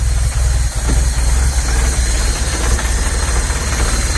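A VW Polo 86c carbureted engine idles lumpily after starting, with its automatic choke not opening, a close, uneven low thrumming with irregular knocks and no talk.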